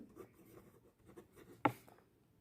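Chalk or marker writing on a classroom board during a chemistry lesson, short quiet scratchy strokes followed by a single sharper tap near the end, with no talk over it.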